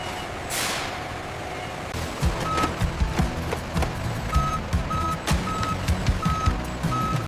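A refrigerated truck for chicken transport reverses, its backup alarm beeping in a steady, evenly spaced series over a rumbling engine, after a short hiss of air release.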